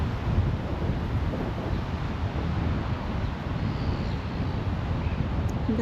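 Strong wind blows across a microphone beside open water in New Zealand, a constant broadband rushing roar with no pauses and no talking.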